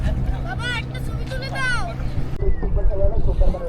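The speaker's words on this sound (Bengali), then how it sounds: "আসুন স্পিডবোটে সুন্দরবন ভ্রমণ" Speedboat ride through the Sundarbans mangrove waterways, the boat's engine droning low and steady beneath continuous close talk and passenger chatter.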